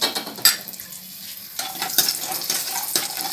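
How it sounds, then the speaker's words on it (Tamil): Dried turkey berries (sundakkai) fry in sesame oil in a pan with a steady close sizzle, punctuated by a few sharp clinks of a spoon or ladle stirring against the metal; no one speaks. "நல்லெண்ணெய் ஊற்றி நம்ம இந்த சுண்டை வத்தை பொரிச்சு எடுத்துக்கலாம்."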